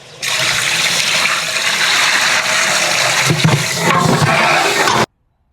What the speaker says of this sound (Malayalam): ആറര പാത്രം വെള്ളം ഒഴിച്ചു കൊടുക്കാം